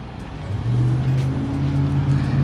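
A Subaru BRZ engine hums steadily from close by as the car drives, with a low, even drone that rises slightly in pitch and holds without pause.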